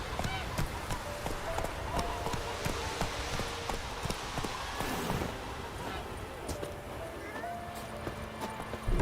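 Roach, Geralt's horse in the video game The Witcher, gallops with steady clip-clop hoofbeats under a busy game soundscape, while voices talk over the running hooves.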